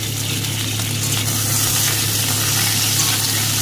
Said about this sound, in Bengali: এবার এর মধ্যে দিয়ে দেবো কেটে রাখা টমেটোগুলো। টমেটোটাকে দিয়ে ভালো করে